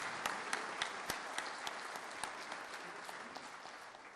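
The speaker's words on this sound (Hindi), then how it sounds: "आइए तालियों की गूंज से महामहिम राष्ट्रपति महोदया का स्वागत अभिनंदन करें" Applause welcomes the President in the Gujarat legislative assembly hall, a sustained steady patter of many hands clapping at moderate distance with a few sharper individual claps standing out.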